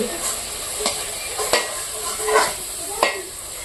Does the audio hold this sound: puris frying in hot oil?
yes